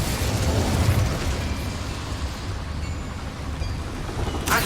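Incendio fire spell cast in Hogwarts Legacy, a broad roaring burst of flame with crackling, rumbling texture that sustains and slowly tapers, with a sharp crack near the end.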